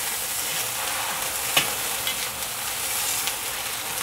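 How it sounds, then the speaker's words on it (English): Steady sizzling and crackling of green beans stir-frying in a hot wok, with a few soft scraping clicks of a utensil. "you can just keep stir frying them just like this"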